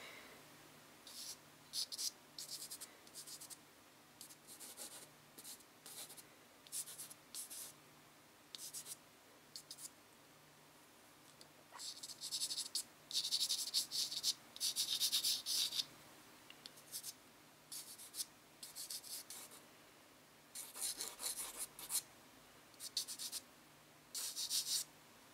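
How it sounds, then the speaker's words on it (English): Soft pastel is rubbed and pushed into paper while working a seascape, producing quiet, close, scratchy strokes in irregular bursts, some short and some sustained, over a faint steady background. "You push it into the paper, you get more layers."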